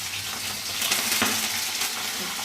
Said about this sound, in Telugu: ఇప్పుడు అన్నీ బాగా వేగినాయండి.